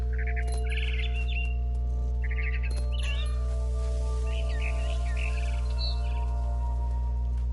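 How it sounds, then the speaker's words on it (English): A barn swallow in What Remains of Edith Finch chirps in short, quick twittering bursts, repeated several times over a steady low hum. "Then I heard chirping outside my window. It was a barn swallow going back to her nest."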